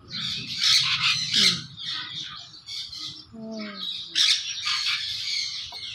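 Loud, harsh squawks from a large bird, several raspy calls in bursts close by, with a few lower croaking notes in between.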